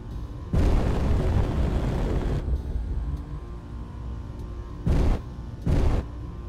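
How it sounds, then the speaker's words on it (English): Rocket launchers firing on a frigate in Space Engineers: a long roaring blast, then two shorter booming bursts after a pause, loud and heavy over a steady low engine rumble. "Testing the rocket launchers."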